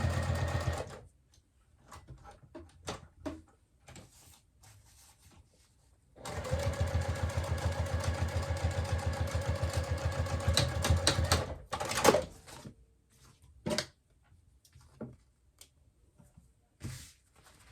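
A sewing machine stitches across the bottom of a clutch purse pocket, running in a steady loud burst for about five seconds, bracketed by short bursts and quiet handling sounds before and after.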